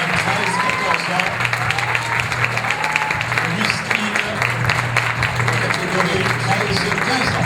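An audience applauds contestants at a Miss Teen France 2015 casting, with sustained clapping from a crowd while a presenter talks over it on a microphone.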